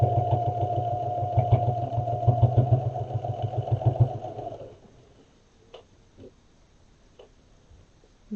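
A sewing machine stitches several passes over a thick fabric tab on a bee bag, a loud, fast, steady mechanical whir lasting about four seconds before stopping, leaving near silence with faint small clicks.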